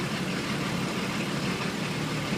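A cold 1980 International Scout II diesel engine idles with a constant low rumble, steady and close, with no talking over it.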